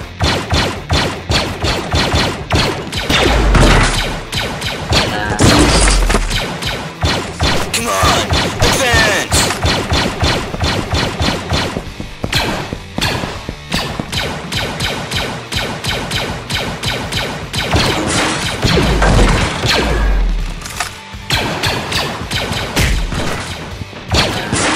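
Rapid blaster fire crackles nonstop through a Lego Star Wars stop-motion battle, loud dense bursts layered with impacts and thuds, with occasional shouted voices mixed in.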